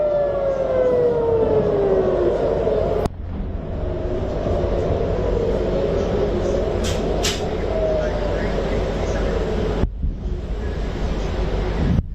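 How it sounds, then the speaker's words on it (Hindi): An air raid siren during the Israel–Iran war wails with slowly falling tones over steady wind noise, loud and continuous. "सायरन की आवाज है। जरा सुनिए।"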